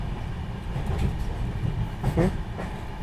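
Belagavi Superfast express train on the move, a steady, continuous rumble and rattle of the running carriages with low, rolling undertones and a few brighter clanks, with no voices.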